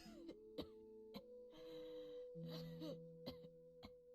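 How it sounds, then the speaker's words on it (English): A grandmother character in the video game The Hungry Lamb coughs repeatedly, several short sharp coughs and throat clearing over quiet background music. "Suddenly, I heard my grandma coughing."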